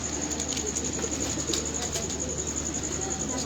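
A pigeon coos softly against a steady background hum on a rooftop, low murmuring calls repeating faintly and evenly throughout.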